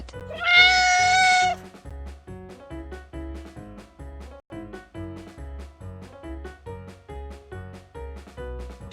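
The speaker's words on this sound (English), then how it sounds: "Cat." One clear cat meow, drawn out for about a second near the start, rises above a steady, rhythmic music bed that keeps playing throughout.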